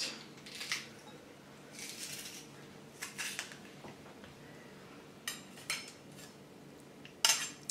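A garlic clove is pressed for spicy Cajun shrimp, with faint metallic clicks and soft squeezing crunches in separate short bursts from a hand press close by, amid light kitchen clatter.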